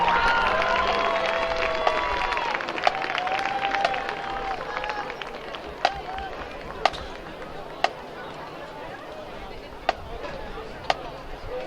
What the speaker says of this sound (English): Let's give a round of applause to the OA Marching Band.